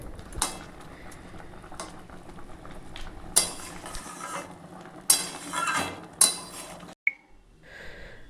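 A utensil stirs spiced Bengali shukto in a pot, giving scattered metallic clinks and scrapes against the rim over a soft simmering background, close and with no talk.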